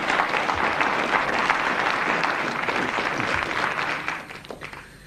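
Studio audience applause on the 1987 Countdown television game show, loud dense clapping sustained for several seconds before tapering off toward the end.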